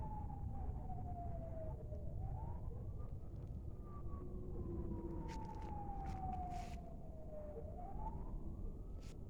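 An emergency siren wails in slow rising and falling sweeps, somewhat distant over a steady low rumble of traffic, with no voices.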